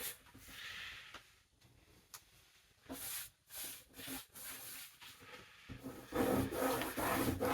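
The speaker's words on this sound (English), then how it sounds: "Just rub it in with my fingers" Fingers rub titanium white paint into a big wooden panel propped on an easel, a close, dry scuffing rasp in uneven strokes with short pauses, growing louder and steadier toward the end.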